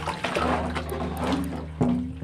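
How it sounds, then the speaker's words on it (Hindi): Tap water pours into a tub after a morning water supply arrives, splashing and gurgling steadily up close. "अभी मैं फिर से टब वगैरह साफ़ करके भर ले रही हूँ"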